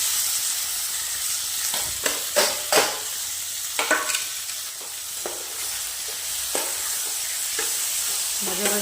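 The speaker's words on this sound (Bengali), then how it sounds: "ভাজা ভাজা করে নেবো।" Spiced chicken marinated with ginger, garlic, onion and tomato sizzles steadily in a pan, with several sharp scraping and clattering stirs of a spatula over the constant frying hiss. No speech.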